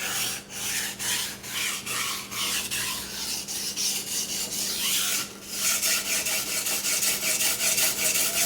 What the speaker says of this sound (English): keep your hands very, very stable. You don't want to roll your edge while sharpening